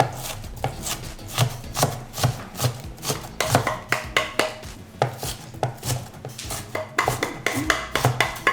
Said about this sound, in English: I was cutting onions last night and I was in tears.